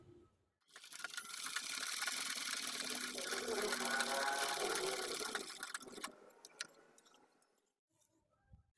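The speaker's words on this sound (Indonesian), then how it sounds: "Ini kita jahit terlebih dulu." A sewing machine stitches a gathered balloon sleeve in one continuous run of about five seconds, a steady whirring needle rhythm, then stops, with quiet handling noises afterward.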